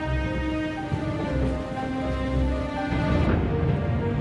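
Steady, dense rainfall from a storm hisses continuously with a low rumbling undertone, close and fairly loud, with no voices.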